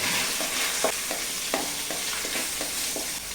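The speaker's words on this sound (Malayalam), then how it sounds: "കടുക് പൊട്ടിക്കഴിഞ്ഞാൽ അതിലേക്ക് വേപ്പിലയും" Curry leaves and green chillies sizzle in hot oil after mustard seeds pop, with a steady close frying crackle and a series of sharper pops and stirring clicks at an uneven rhythm, no voices.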